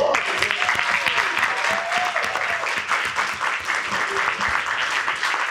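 Audience applause at an anime convention live reading, dense clapping that stays strong for several seconds, with some voices and cheers mixed in.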